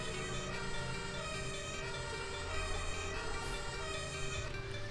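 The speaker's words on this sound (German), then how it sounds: "Schalt mir nochmal kurz das Horn ein, dass wir sozusagen ein Einsatzfeeling jetzt hervorrufen können." Fire engine siren horn from a firefighting vehicle in Landwirtschafts-Simulator 17 wails continuously and loudly, a steady dense tone over engine hum without talk.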